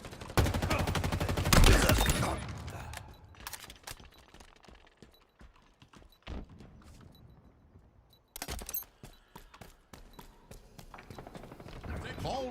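Halo Infinite multiplayer combat: a loud burst of rapid gunfire and a grenade blast up front, then scattered shots and thumps, with another flurry of firing near the end.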